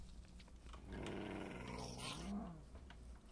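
Tamed dogs in the Minecraft video game growl while attacking, producing a short low snarling burst with a whimper-like tail, heard alone and fairly close.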